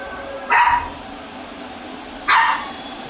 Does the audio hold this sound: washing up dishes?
no